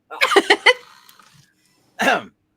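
A person clears a throat roughly, a cluster of harsh rasping bursts lasting most of a second, then a short gap and one more throaty rasp, close and fairly loud with no talk.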